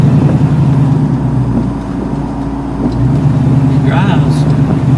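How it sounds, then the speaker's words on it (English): A 1982 Chevy C-10 Silverado pickup's engine rumbles steadily and loudly from inside the cab while driving, with people talking over the low engine drone. "can you open those headers up?"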